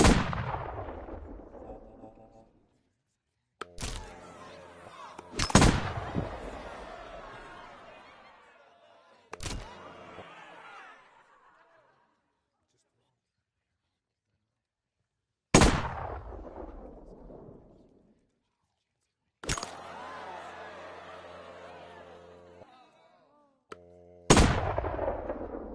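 Gunshots in the Penn and Teller PSVR video game: six sharp, loud reports spaced several seconds apart, each trailing off with a ringing decay and debris-like clatter.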